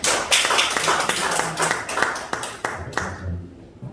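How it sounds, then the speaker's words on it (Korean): A church congregation gives a short round of applause for the pastor after a Sunday sermon, scattered hand claps spread across a few seconds, moderately close, thinning out toward the end. "우리 수고하신 목사님께 감사한 마음으로 박수 한번 드리겠습니다"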